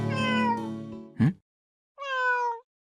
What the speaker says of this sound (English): I could hear the cat meowing nearby.